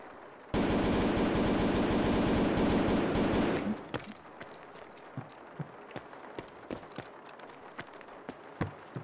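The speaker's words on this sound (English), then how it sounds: "That's someone's laser." Rapid automatic fire from a laser tag gun bursts in loud and dense for about three seconds, then cuts off into quieter surroundings marked by scattered light clicks and taps.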